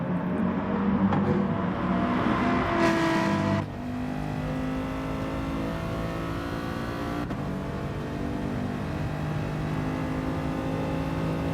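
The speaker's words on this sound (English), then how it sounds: "Even the sound of the mighty Merc, it just really does sound like it has been nerfed" Mercedes race car engine in Gran Turismo Sport at Brands Hatch, a loud, sustained high-revving drone that drops sharply as the car lifts off, then carries on at a steady, lower whine.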